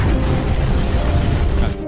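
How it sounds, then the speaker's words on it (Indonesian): A grenade detonating in an action film scene, a loud, dense burst of noise that roars continuously for nearly two seconds before cutting off abruptly, with no speech. "granat yang disimpan di tempat kedua pengawal itu meledak"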